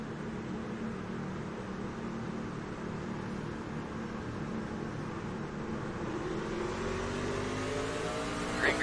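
Race cars at Darlington accelerate together at the green flag start, a steady mass of engine drone that rises in pitch and intensity toward the end as the field builds speed.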